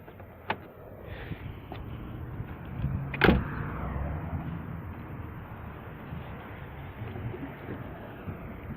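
The trunk release of a 1997 Ford Contour pops with one sharp clunk partway through, followed by a low rustle and a steady outdoor background with a faint click earlier.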